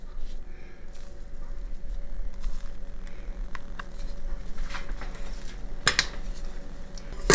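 A spatula scrapes the last of the chocolate and brown sugar muffin batter from a mixing bowl, giving soft repeated scraping with a few light clinks against the bowl and a sharper knock near the end.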